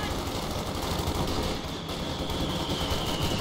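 Machine gun fire in the Company of Heroes 2 WFA strategy game, a sustained dense rattle of automatic bursts amid battlefield gunfire, loud and continuous with no pauses.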